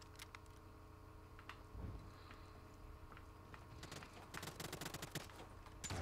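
Scattered gunfire in the Realm Royale game, a few sparse cracks early on, then a tight cluster of rapid shots near the end over low ambient rumble, moderately quiet.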